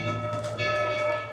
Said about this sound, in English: Oop, train's coming by.